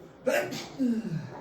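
A single short sneeze, close and fairly quiet, with a sharp burst followed by a brief vocal tail.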